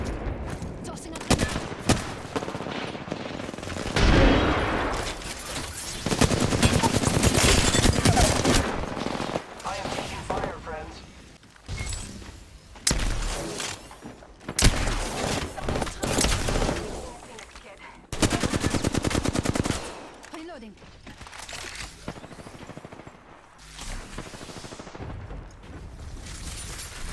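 Shooter video game gunfire in rapid automatic bursts and scattered single shots, loud and close, with some explosive booms, mixed under a player's intermittent talk.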